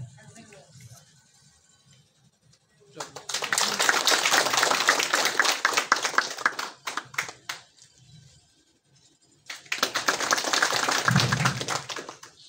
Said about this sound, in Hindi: ताली बजा बोले